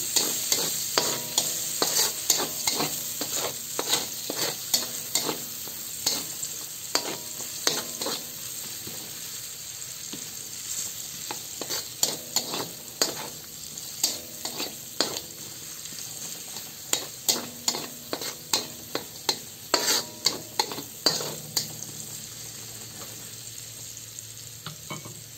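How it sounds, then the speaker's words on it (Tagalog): Sliced onion and garlic sauté in a pan, a soft continuous sizzle broken by repeated scraping stirs of a utensil against the pan over about 25 seconds, close up with no talking. "Lutuin lang natin ang sibuyas at bawang hanggang sa lumambot na ito"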